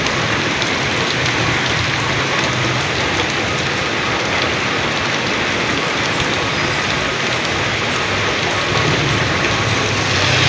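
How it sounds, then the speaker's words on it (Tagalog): Heavy rain pours down steadily outdoors in the Philippines, a loud dense hiss with no pauses, masking any traffic on the nearly empty road. "ihinto ang ulan dito."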